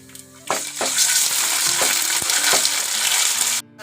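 Ginger garlic paste hits a hot tempering of seeds in oil and bursts into a loud, close sizzle that holds steady for a few seconds, with a few sharp spoon taps against the pan.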